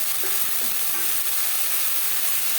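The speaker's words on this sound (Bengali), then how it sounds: "টমেটোর সাথে আদা ও কাঁচা লঙ্কা বাটা নাড়াচাড়া করে নেওয়ার পর দিয়ে দেবো কুমড়োর ডাঁটা" A tomato, ginger and green chili paste is stirred in a hot pan, giving a steady, close sizzle with soft scraping from the spoon throughout.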